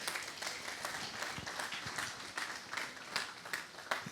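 A crowd applauding at a funeral reception, a steady wash of many hands clapping together at moderate, fairly distant loudness without a clear beat, lasting throughout.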